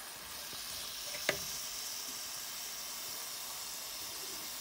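Ginger garlic paste frying with meat in a pan, giving a quiet, steady sizzle and hiss with one brief sharp clink of a utensil near the start.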